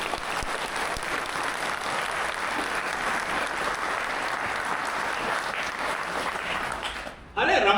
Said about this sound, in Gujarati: તમે બોલ્યા છો તો આખી સભાની એક સાથે તાળીઓ આવી છે.